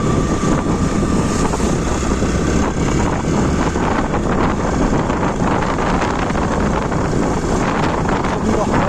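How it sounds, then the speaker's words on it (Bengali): Cold wind blowing hard across the microphone at the Kurseong view point near Darjeeling, a loud, continuous rushing roar with no break throughout. "ঠান্ডা হাওয়া"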